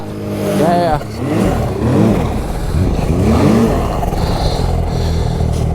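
Car engine droning steadily while driving along a highway in western Quebec, a continuous road rumble with occasional rising engine tones, as people talk over it throughout.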